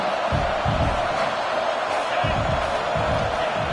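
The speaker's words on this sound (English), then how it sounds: "here comes the noise. This crowd is trying to inspire this defense to make a big red zone stop." A packed college football stadium crowd roars steadily during a third-down red zone defensive stand, a dense, constant wall of cheering and noise with no letup.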